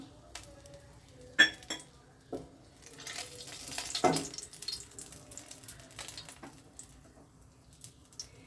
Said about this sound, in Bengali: এবার ফোড়নে দিয়ে দিচ্ছি একটা তেজপাতা দু টুকরো দারচিনি দুটো লবঙ্গ দুটো এলাচ আর অল্প একটু জিরে আর একটা শুকনো লঙ্কা